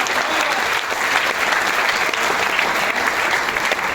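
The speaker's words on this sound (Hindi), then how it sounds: "एक बार जोरदार तालियां बजा ली जाती हैं।" A large audience at an indoor talk breaks into strong, sustained applause, dense and even from start to finish with no pauses.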